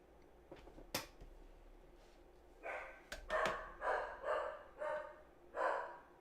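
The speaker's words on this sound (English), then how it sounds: "The dog is barking." A dog barks about six times in a steady, evenly spaced run at moderate loudness, preceded by a few quieter knocks and thumps, with no talking.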